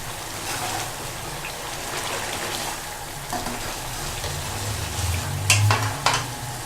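Chicken korma stir-fries in a pan, a continuous close sizzle with spoon scraping and stirring, louder clattering strokes near the end, no talk.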